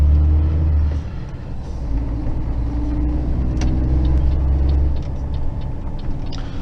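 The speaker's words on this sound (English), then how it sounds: "Bit tight for two trucks over this bridge, sandy railway bridge." A tanker truck's engine rumbles steadily as it drives over a narrow sandy railway bridge, low droning road noise throughout with a few faint high squeaks and clicks.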